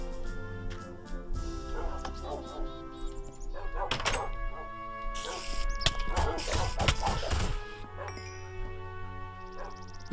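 Dogs bark in a Minecraft game amid thuds, crashes and game noise, with several sharp yelps scattered through a busy, cluttered mix.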